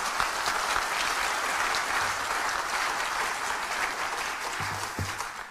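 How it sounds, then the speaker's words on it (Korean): Audience applause at a People Power Party members' training lecture, a steady dense wash of clapping from a large room that carries on evenly throughout without any talk. "동의한다면 잠도 깰 겸 박수 한번 주십시오"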